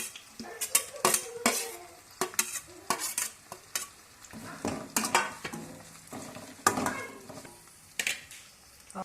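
Carrot, cloves and spices sizzle softly in a pan while a spoon stirs and scrapes in quick, irregular strokes, metal clinking against the pan close by, with no talking.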